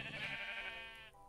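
A single drawn-out sheep bleat from the Minecraft video game, wavering and fairly loud, trailing off with a brief second note near the end; no talking.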